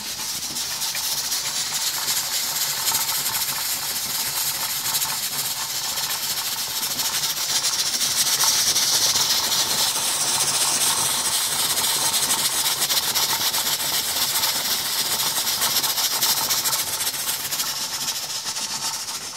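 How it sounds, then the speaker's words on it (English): Steady, loud hiss of steam jetting from the vent of a pressure canner processing pint jars of beef roast, a continuous broadband rush holding for the whole stretch with slight swells. "right now we're just timing the steam vent. But you can hear it coming out."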